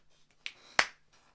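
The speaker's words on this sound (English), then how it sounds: "sorry, that was a bit loud, that clap" A single loud hand clap rings out sharply in an otherwise quiet room during a live show, preceded by a softer smaller smack and followed by faint background noise.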